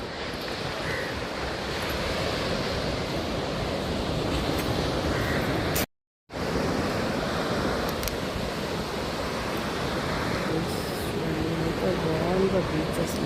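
Ocean waves breaking on a beach in South Goa, a steady broadband wash of surf with wind noise across the microphone, loud and continuous apart from a brief gap in the middle.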